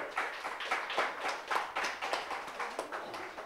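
A small audience claps for public access station CAN-TV. The clapping is quiet, scattered and brief, with individual hand claps heard in an uneven rhythm.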